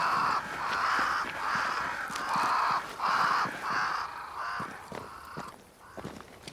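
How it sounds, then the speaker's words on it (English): Crows in the video game Banishers: Ghosts of New Eden caw loudly and repeatedly near a great tree, harsh calls coming in a steady series of about eight, then thinning out. "Crows."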